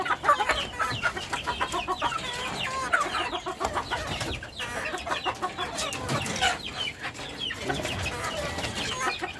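Backyard chickens clucking and calling steadily throughout, several birds close by with overlapping busy chatter, no talk.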